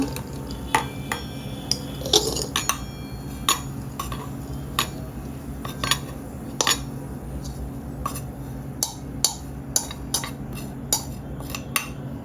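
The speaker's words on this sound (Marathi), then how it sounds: "आता आपण याला एका भांड्यामध्ये काढूया." Roasted khoa being scooped from a pan into a bowl: a steady run of sharp metal spoon scrapes and clinks against the vessels, close and fairly loud, over a low steady hum with no talking.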